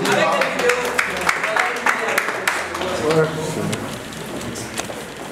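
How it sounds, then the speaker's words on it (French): Audience applause at a French show, a steady patter of claps with scattered sharp hand strikes that thins out toward the end. "Applaudissez vraiment beaucoup."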